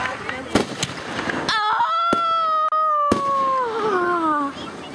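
Fireworks go off in a short burst of sharp cracks and bangs, followed by rising whistling tones, with people's voices heard over them.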